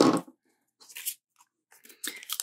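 A few short, crisp scissor snips and crinkly tearing sounds as an airtight nail strip package is cut open, with quiet pauses between, close by.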